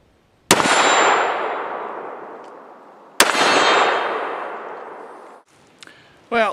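A Baikal double rifle fired downrange at jugs: two sharp, loud reports about three seconds apart, each with a long ringing decay, and a brief rustle at the end.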